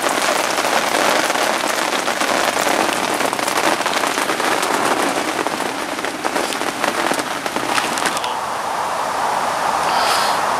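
Heavy rainstorm drumming on a bivvy beside a carp fishing lake, a dense, loud, unbroken hiss of rain on fabric from start to finish.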